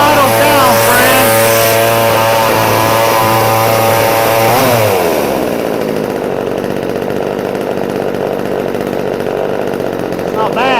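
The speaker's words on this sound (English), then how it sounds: "Now I'm going to let it idle just for a little bit" A VEVOR 12-inch clone chainsaw's small two-stroke engine runs loud and steady at a high rev, then drops sharply into a lower, continuous idle that carries on alone to the end.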